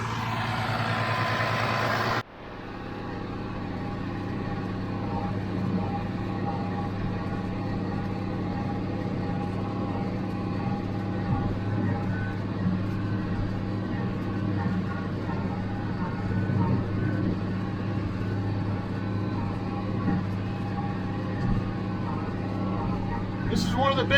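Steady low diesel drone of an IH 886 tractor pulling a JD 348 square baler through second-cut teff hay, running evenly and close for the whole stretch after a brief louder burst at the start.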